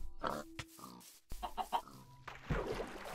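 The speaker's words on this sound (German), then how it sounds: "Das Schwein da hinten. Das Schwein." Pig grunts and oinks from the Minecraft game, short snorting calls in a few bursts with gaps between, mixed with clucking chicken sounds, close and fairly clear.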